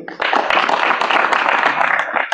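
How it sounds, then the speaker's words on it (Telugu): Audience clapping at a Telugu question-and-answer gathering with Sri Adithya Parasri Swamy, a steady, dense round of applause that stays loud and even throughout. "చప్పట్లు కొట్రి"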